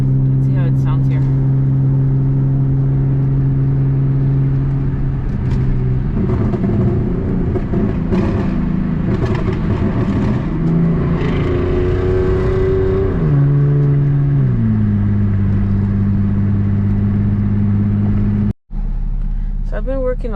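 A tuned Lexus engine drones steadily while driving, its pitch climbing and dropping through revs and gear changes, loud and close throughout with one sharp dropout near the end.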